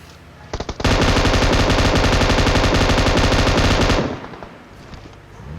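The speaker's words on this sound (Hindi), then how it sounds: "अब गन की साउंड वापस आ गई है" Sustained automatic gunfire in a battle royale video game, a loud rapid burst of shots lasting about three seconds after a few brief initial pops, then quieter background game sounds.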